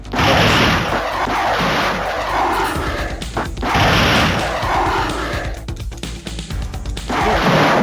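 The Avenger ship is blown away in the Star Control 2 video game with loud, sustained booming explosions and crashing blasts in repeated surges, heavy and close throughout.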